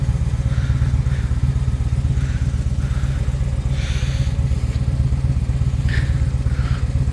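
A motorcycle engine droning steadily at road speed while riding, loud and close with a constant low rumble and wind rush, with no talk.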